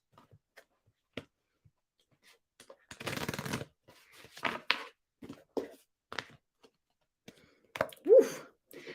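Tarot cards being shuffled in scattered bursts, with one longer riffle and several short flicks and taps, close and fairly quiet.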